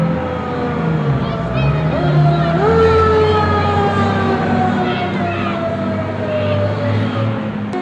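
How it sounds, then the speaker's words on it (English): A fire truck siren wails loudly, rising and falling in pitch over engine rumble and crowd noise, as Santa arrives on the truck at a holiday event. "The siren sounded for Santa as he arrived with Mrs. Claus"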